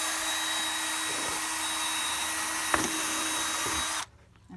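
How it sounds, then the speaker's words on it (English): A steady, loud electric drill whine runs continuously for about four seconds, with a couple of brief knocks, then cuts off abruptly, leaving quiet. "drill a hole"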